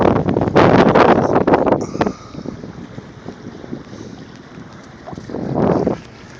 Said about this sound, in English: About a 10 to 15 mile an hour wind.